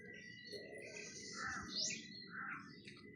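Several birds chirp outdoors, giving scattered, faint tweets and short calls over a low, steady background rumble, with no talking.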